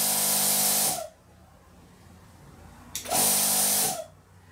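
A double-ended piston air compressor built into a plasma cutter runs in two loud bursts, first about a second long and then another after a pause, each with a steady hissing, whirring hum and quiet gaps between.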